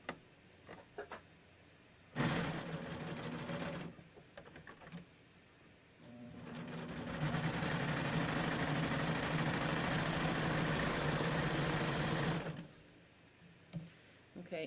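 A sewing machine stitches a cover hem on a tee shirt. It makes two runs of fast, steady mechanical whirring, a short one and then a longer one of about six seconds, with quiet handling noises between them.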